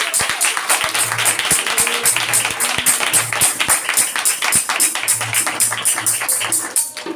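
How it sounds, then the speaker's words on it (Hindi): A church congregation claps loudly and steadily in honour of Jesus, a sustained dense wash of hands with some rhythmic beats and a few faint tones underneath. "मैं भी यीशु बादशाह के जलाल के लिए जोरदार तालियां बजाती हूं"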